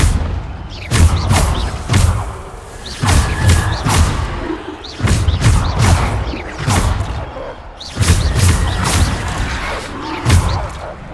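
Bombarda blast spells go off repeatedly in a Harry Potter video game, a series of loud, close thumping booms with bright bursts, coming in clusters of several impacts at irregular intervals.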